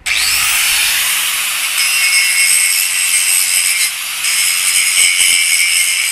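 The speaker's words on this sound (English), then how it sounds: "So just grinding all the paint off for that." Power grinder stripping paint from a light metal bicycle-style frame ahead of welding on rear wheel holders, a steady loud continuous high-pitched whine and rasp held for several seconds with a brief dip midway.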